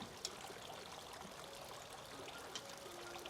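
Water trickling and pouring outdoors into a cake pan, setting up a water bath for a dulce de leche cheesecake, a faint continuous splashing stream with a couple of small clinks, and no voices.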